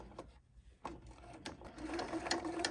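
A sewing machine stitches across a tote bag strap in short bursts of rapid mechanical whirring, starting and pausing, then running more continuously near the end.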